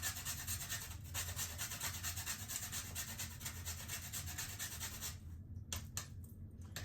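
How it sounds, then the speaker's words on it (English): Whole nutmeg is rubbed over a grater into a bowl of dry ingredients for a Jamaican Easter spice bun, giving a steady rasping scrape that repeats in quick strokes, close and fairly faint, with the scraping breaking off near the end. "So I am grating my nutmeg in my dry ingredients."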